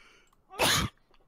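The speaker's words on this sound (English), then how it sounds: "I gotta sneeze" A single loud sneeze bursts out close to the mic after a quiet lead-in, ending abruptly with faint room noise afterward.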